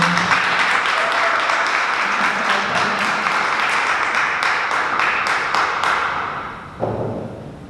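Loud, close applause fills a city council meeting chamber, a dense, steady patter that carries on for several seconds before thinning out and fading toward the end, with a thump near the close.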